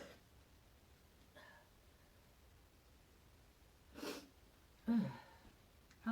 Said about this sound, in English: Oh, I've got to sneeze, y'all.